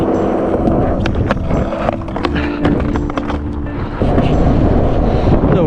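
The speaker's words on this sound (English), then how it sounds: "The wind, man." Strong wind buffets the microphone on a cold day outdoors at a skate spot, a steady loud roar with gusting surges throughout and a harder blast near the end, no talking.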